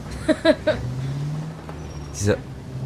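An old-era car drives in the video game L.A. Noire, a low steady engine hum running beneath bursts of conversation, with a brief louder noise near the end.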